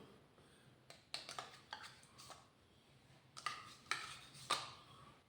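Salad being stirred with mango-flavoured yogurt in a bowl, giving soft, quiet clinks of a spoon against the bowl and wet squishing in irregular bursts, close by and without speech.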